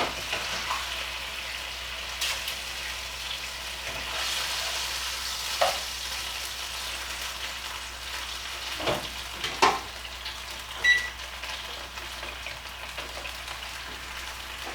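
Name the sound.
cubed steak frying in a pan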